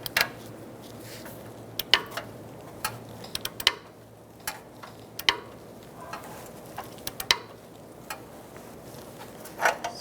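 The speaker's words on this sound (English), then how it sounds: "Tighten our O2 sensor, and then we're going to torque it to 30 foot-pounds with a torque wrench." An upstream oxygen sensor being tightened on a 2012-2017 Hyundai Accent 1.6L four-cylinder gives sparse, quiet ratchet-like clicks and ticks at uneven intervals over faint background hum.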